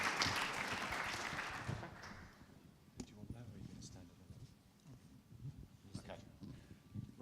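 Audience applause at an aviation innovation pitch event, a crowd clapping loudly at first and then fading away within a couple of seconds, followed by quieter room sounds and scattered noises.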